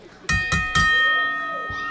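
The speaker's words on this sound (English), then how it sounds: "The bell is rung and we are underway, Johnny Walker." A wrestling ring bell at a women's championship title match, struck three times in quick succession, each ring loud and close with a long metallic ringing decay that fades under crowd noise.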